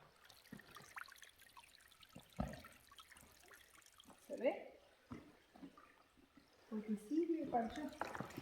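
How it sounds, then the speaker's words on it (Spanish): A small stream in a Peruvian cave trickles and splashes down little stone steps into pools, faint and intermittent, with soft drips and a few louder gurgles, and quiet talk nearby. "mirá el río cómo hace"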